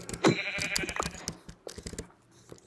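A sheep bleats loudly up close, followed by a few softer bleats and some rustling and munching noises.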